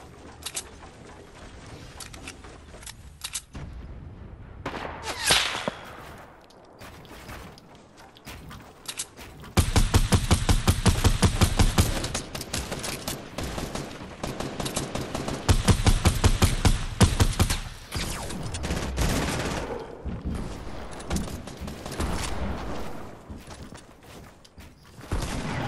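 Gunfire in a Fortnite match: dense bursts of shots and rapid volleys, loudest in the middle and again near the end, with quieter stretches between and no speech.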